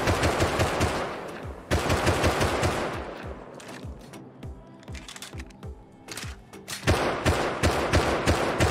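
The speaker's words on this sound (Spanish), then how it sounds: "Dale un par de tiros, que no mejoren." Gunfire from the survival game Rust: dense, rapid automatic bursts rattle near and loud, thin out to scattered shots mid-way, then swell again into heavy firing.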